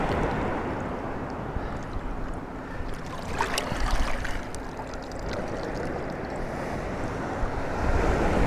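Sea waves wash continuously onto the shore near Sunderland, a steady broad roar of surf with wind buffeting the microphone, swelling slightly louder toward the end.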